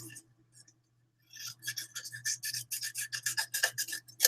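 Paper being trimmed on a paper trimmer at a card-making workshop, a run of quick rasping cuts and rubbing strokes after a short pause, close up over a steady low hum.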